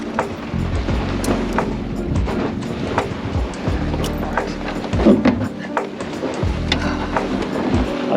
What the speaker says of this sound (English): that's a bit rattly as we're being bashed around by these waves